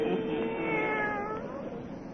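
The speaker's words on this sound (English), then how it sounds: "old Nancy and Satan, her wise black cat" A black cat meows in a long, drawn-out wailing cry that bends in pitch, close and fairly loud, with no other voices around it, in a Halloween horror radio drama.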